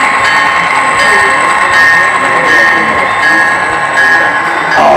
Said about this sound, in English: that train picked up some cars